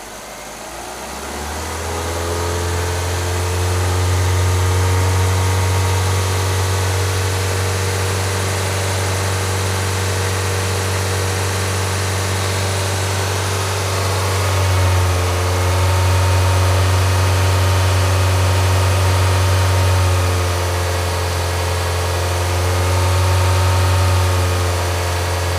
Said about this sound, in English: I'm going to give this thing a little gas to try to get it warmer